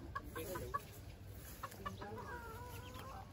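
Chickens cluck on a farm, several short, quiet clucks and calls scattered over steady faint background noise at moderate distance.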